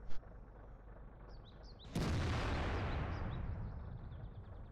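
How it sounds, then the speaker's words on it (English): Tank cannon firing in World of Tanks from a T30 at an E100, a single sharp boom that rolls into a long rumbling decay, preceded by quieter in-game clicks and a distant pop. "Take another shot at the E100 and bounce again."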